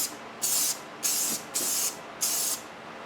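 Four short bursts of Rustoleum Custom 5 in 1 spray paint hiss from the can at a high-output nozzle setting, each lasting about a third of a second with brief pauses between, close and crisp.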